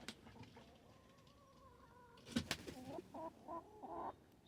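Brown hens clucking in a farmyard coop, a mix of soft and sharper calls, some close and some farther off, rising into a busier burst of clucks toward the end.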